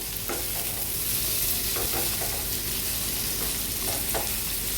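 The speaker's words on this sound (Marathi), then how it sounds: "आता तोंडली व्यवस्थित ह्या कांद्यामध्ये आपल्याला परतून घ्यायची आहे" Ivy gourd sautéing with onions in a pan gives a dense, continuous sizzle broken by occasional soft stirring scrapes, close up and steady, with no voices.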